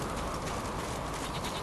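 Bleating goat in The Witcher 3, a steady wash of game ambience with faint bleats blended into continuous noise throughout, no clear speech.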